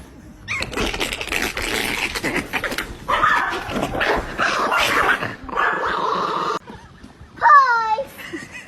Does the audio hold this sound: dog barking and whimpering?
yes